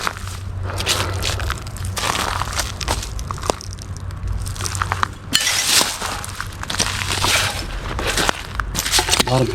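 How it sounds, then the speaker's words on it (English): Broken glass and bottle shards crunch and clink underfoot around concrete pads at an old river camp in Redding, California, in uneven steps up close, with someone talking over parts of it. "A lot of broken glass in the area."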